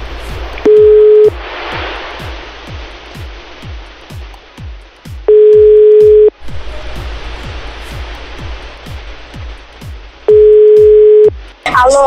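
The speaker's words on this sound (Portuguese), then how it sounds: "E agora vamos ligar para a Aline." Telephone dialing a call, with repeated steady tones of ringback each lasting about a second, spaced regularly over loud, rushing background noise and a rhythmic ticking beat.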